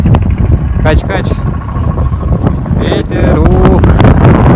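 Strong outdoor wind buffets the microphone in a Moscow park, a loud continuous low rumble throughout, with a person's voice briefly heard over it.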